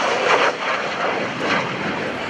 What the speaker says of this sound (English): Now I'm listening for that turbojet because he's down low and coming in hot from the right.